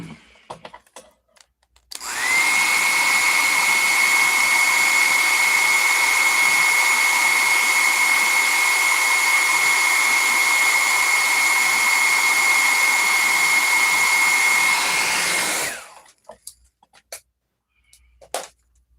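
A heat gun warms a plastic action figure part for kitbashing, giving a loud, steady airy roar with a faint high whine that runs unbroken for about thirteen seconds, then cuts off, leaving light handling clicks.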